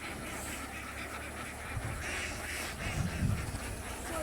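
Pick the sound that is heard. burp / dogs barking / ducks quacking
ducks quacking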